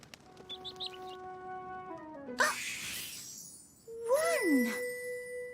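Cartoon bird sounds from a children's counting show, with bright whistled chirps and tones sliding down in pitch, then a shimmering burst and a final warbling chirp near the end, all close and clear.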